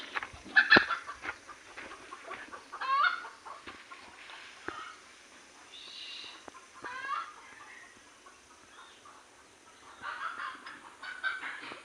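Free-range hens in a poultry shed cluck and squawk in short, scattered bursts at a moderate distance, with a few sharper calls rising above the flock's murmur.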